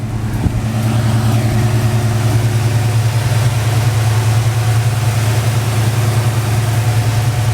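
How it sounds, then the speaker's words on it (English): A brand new small block Chevy crate motor with carburetor idles in a slammed Chevrolet C10 square body truck, a steady, loud, close low rumble that holds constant throughout. "Brand new crate motor, small block Chevy's SBC with some sweet valve covers and Eibach filter on top there with the Apr intake and carburetor"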